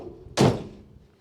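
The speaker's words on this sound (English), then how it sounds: "Doors shut real nice." The door of a 1962 Chevy Bel Air shuts in a single solid, close thunk with a short fading tail.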